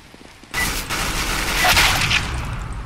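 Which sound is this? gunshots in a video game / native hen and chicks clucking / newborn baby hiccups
gunshots in a video game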